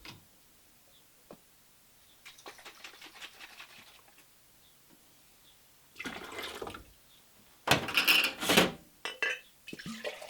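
Water runs and splashes while a container is rinsed out during black currant juice making, with a quiet stretch first and then louder bursts of rushing water and clattering toward the end.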